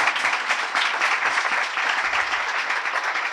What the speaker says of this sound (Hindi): आइए उसके लिए ज़ोरदार तालियां बजाएं